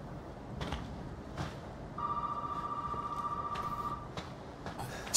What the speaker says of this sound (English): I should answer that phone.